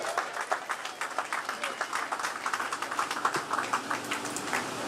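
Audience clapping at a trade union's annual conference of delegates opening, a steady patter of many hands filling the hall at moderate volume, fairly continuous with no talk over it.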